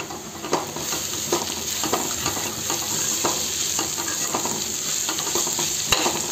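Onions and curry leaves fry in a pan with a steady, close sizzle, broken by light scraping stir strokes, and no one speaks.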